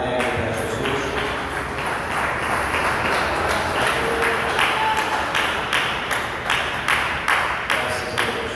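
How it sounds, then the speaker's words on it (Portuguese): A church congregation claps along joyfully in a steady rhythmic beat, the sharp claps repeating evenly over a busy background of music and voices. "batendo palmas bem alegre para Jesus"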